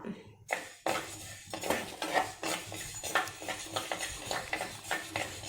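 Black urad dal and horse gram are dry roasted in a pan, giving rhythmic scraping and rattling strokes of a spoon across the metal with light clinks and little sizzle, close and fairly quiet.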